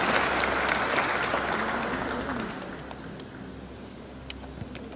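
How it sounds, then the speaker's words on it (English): Applause at a Zimbabwean presidential sports cup launch as an acting minister comes forward, a dense crowd of clapping that is loud at first and then slowly thins and fades. "A round of applause as the Acting Minister comes."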